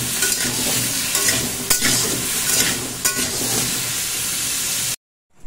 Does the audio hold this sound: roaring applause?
no